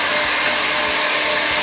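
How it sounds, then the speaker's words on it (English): A hair dryer blows steadily at close range, a loud continuous rushing whir with no pauses. "run the hot air gun, or in my case the hairdryer"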